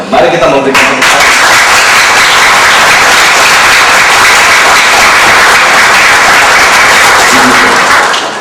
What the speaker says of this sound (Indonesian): mari kita memberikan tepuk tangan